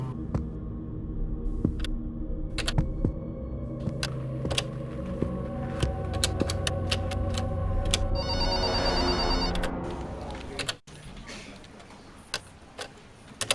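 A telephone rings steadily after a number is dialed, a repeating electronic ring with faint ticking, loud and close for about ten seconds before cutting off abruptly into quieter room tone.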